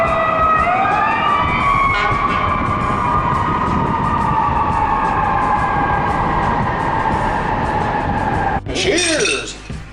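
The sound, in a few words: fire engine and police sirens in Chicago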